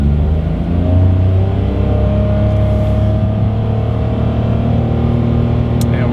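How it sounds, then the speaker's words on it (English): A 2022 Mitsubishi Mirage accelerates from inside the cabin, its small engine a loud, steady droning rumble with a gradually climbing tone and no talking. "let's see how quickly we can get our new 2022 Mitsubishi Mirage here up to speed"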